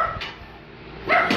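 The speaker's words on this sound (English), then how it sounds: "this little puppy going crazy" A small puppy lets out a couple of short, excited yips and barks, close by, with a quieter gap between them.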